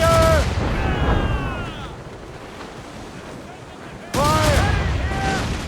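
Ship cannon volleys in Assassin's Creed Rogue naval combat: two heavy booming broadsides, one at the start and another near the end, over rushing sea wind and waves, with shouted voices between.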